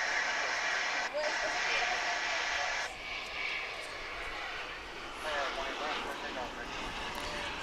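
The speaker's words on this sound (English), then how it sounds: "It's an American Eagle flight, or American Eagle Embraer 175." An American Eagle Embraer 175 regional jet passes at DFW International Airport, its broad engine roar loud and steady throughout, with a faint voice nearby.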